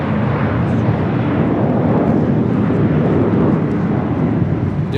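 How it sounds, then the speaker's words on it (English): A Delta Airlines Airbus A319 jet roars steadily as it takes off, a loud, continuous broadband engine rumble that holds at an even level throughout. "This flight heading to Portland, Delta Airlines flight 2766. It's an A319"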